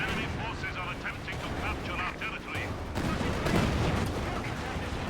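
A creeping artillery barrage in a competitive video game match: dull booms and rolling gunfire rumble on under a commentator's talk.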